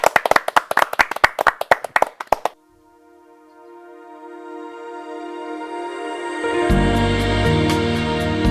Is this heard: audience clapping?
yes